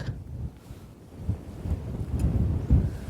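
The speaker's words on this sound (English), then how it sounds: "sadly it's a little bit windy again, which is annoying" Steady low rumbling wind buffets the microphone outdoors on a Cornish clifftop, gusting louder toward the end, with no voices.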